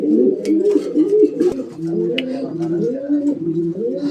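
A pair of almond white-top trumpeter pigeons coo with rising and falling rolling phrases, close and continuous, broken by a few faint clicks.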